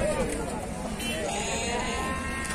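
Lambs bleat at a sheep and lamb market in Beylagan, Azerbaijan, a crowded livestock scene with steady background noise and people talking throughout.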